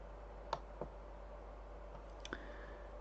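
A few faint, sharp computer mouse clicks on a Windows 10 PC, two close together and then another pair near the end, each a single crisp tick over a low steady hum in a quiet room.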